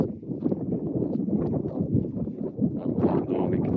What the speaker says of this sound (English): And I'll be damned if it isn't windy again.